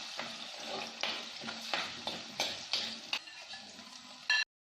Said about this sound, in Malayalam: ഇനി ഇതിലേക്ക് 1 ടീസ്പൂൺ ഉപ്പും കൂടി ചേർത്ത് പച്ചമണം മാറുന്നത് വരെ ഇളക്കി കൊടുക്കാം